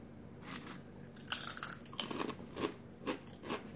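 Kettle-cooked Cape Cod potato chips are bitten and chewed up close, giving sharp, irregular crunches in quick bursts that fade into softer chewing, with no talk.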